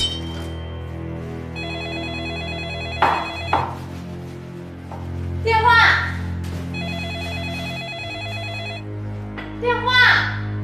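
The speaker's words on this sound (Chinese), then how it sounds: "电话" A telephone rings with a repeating electronic ringtone in two clear bursts, loud and close indoors, while people talk and move around between and over the rings.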